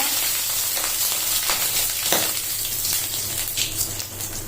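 Dried chilli, cumin, fenugreek and bay leaf sizzle in hot oil for khichuri, a steady loud frying hiss with small crackles and pops throughout, no voices.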